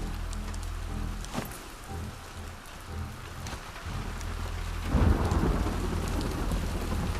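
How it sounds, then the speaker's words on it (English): Steady rain falls in The Last of Us Part 2, with low rumbling thunder rolling underneath and a heavier, closer thunder swell arriving midway before settling back into the downpour. "It's raining."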